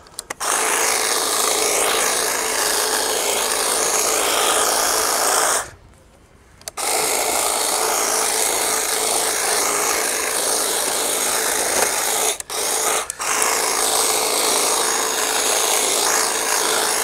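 A juniper being pruned into bonsai style during an outdoor topiary session, giving a steady, dense rasping cut-and-rub noise for most of the time, broken by a pause of about a second and two brief gaps near the end.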